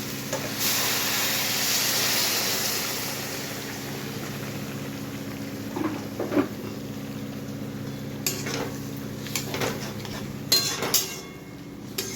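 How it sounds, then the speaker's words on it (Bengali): Hot water is poured into a pan of cooking banana flower, giving a hissing surge of steam and sizzle at first, then a quiet simmer with scattered clinks and a lid being set in place. "এখন এতে আমি গরম জল দিয়ে ঢাকা দিয়ে দেবো"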